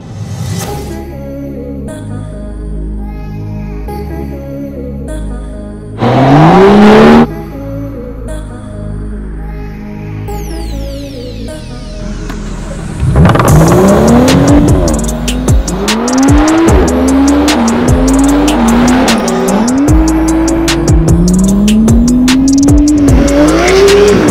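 BMW M135i compact hatchback with a 320 hp six-cylinder, loud engine pulling hard through several gears, with rising revs and quick shifts, a brief louder burst early on, then sustained full-throttle acceleration near the listener.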